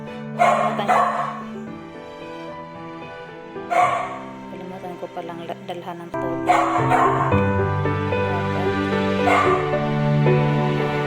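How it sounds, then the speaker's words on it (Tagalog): A dog barks loudly and repeatedly nearby in short sharp bursts, with a person talking between and under the barks. "Maingay yung aso."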